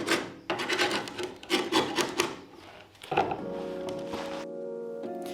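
Hardwood strips for a fiberglass dinghy repair being sanded by hand in rhythmic rasping strokes, close and clear, followed by a steady tonal hum near the end, with no talking.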